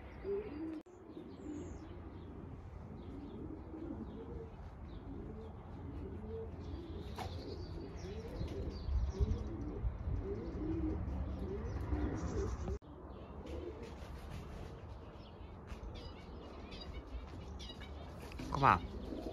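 Racing pigeons coo steadily at a home loft while birds are awaited from the season's first race, a dense soft rolling murmur throughout, with brief wing flaps and a sharp knock near the end.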